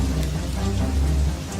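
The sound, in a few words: rain falling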